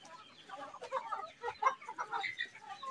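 Young Shamo Aseel chicks, about four months old, cluck and peep steadily while being fed on a rooftop farm, close by and fairly busy without talking.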